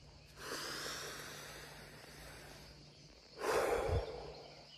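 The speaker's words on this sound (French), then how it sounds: "Prenez des petites respirations" Human breathing, heard as a soft drawn breath early on and then a louder, sharper nasal exhale near the end, both close and with no talk.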